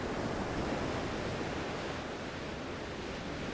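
Sea waves washing against the shore in a soft, continuous surf wash, fairly faint and even, with no voices.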